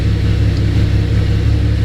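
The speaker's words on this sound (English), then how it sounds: "as you can tell, it's idling pretty well" A Camaro fitted with a ported 76mm throttle body idling steadily up close, a low, even engine rumble with a slight rhythmic lope and no talking.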